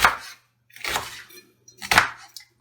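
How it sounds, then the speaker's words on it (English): A knife chops onion on a board for a cucumber salad and meat patties, three sharp, close strokes spaced about a second apart with quiet gaps between. "so we'll chop onion"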